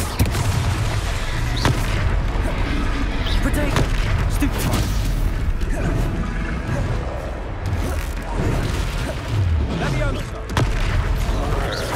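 Confringo blasting-spell explosions in the Hogwarts Legacy video game, a run of booming blasts and crashes mixed with dense battle noise, loud and continuous, with spoken spell incantations over the top.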